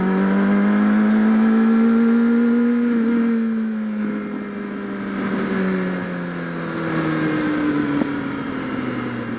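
A motorcycle engine revs while being ridden, a loud steady drone that rises and falls in pitch as it goes through the gears, with no one talking.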